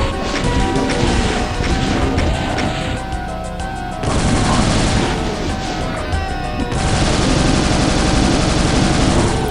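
Rapid, loud weapon fire and explosive crashes from the video game Doom on the map Ossuarium Exoterre, a rocket launcher among the guns, pounding almost continuously with brief shifts in intensity and no talk.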